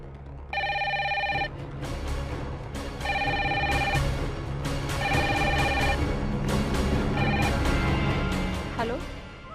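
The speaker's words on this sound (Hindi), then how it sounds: "फोन उठाओ।" A telephone in a TV drama scene rings in repeated bursts of bright electronic trills with short gaps between them, clear and close, while people talk underneath.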